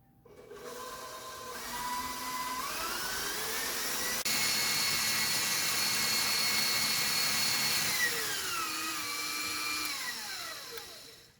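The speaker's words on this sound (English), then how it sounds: "Then we're going to add our whisk. And we're going to turn it on until it aerates and becomes thick and smoothie." An electric whisk whips banana bread batter made with less sugar, whirring up in pitch as it starts, holding a steady motor whine for several seconds, then winding down at the end, heard alone.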